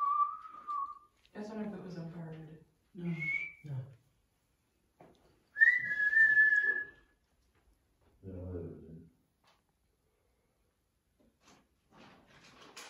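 Whistling heard during a paranormal investigation in Westbury House, England: several short whistled tones, one loud and clear, alternating with people talking in a quiet room.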